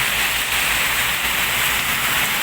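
Heavy rain pours down in a loud, dense, unbroken roar of drops drumming on surfaces close by, with no voices over it.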